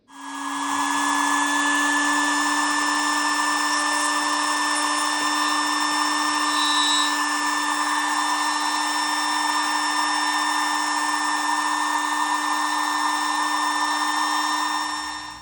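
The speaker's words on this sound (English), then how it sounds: "drill press and a 1mm drill bit, I take and I drill out the tip of this nib so at 1mm" A drill press with a 1mm bit bores out the tip of a handmade fountain pen nib, a loud, steady high-pitched whine that holds unbroken for the whole stretch with no talking.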